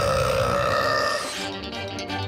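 A cartoon character lets out a long, loud, deep burp that rumbles on for over a second, then fades into quieter background sound.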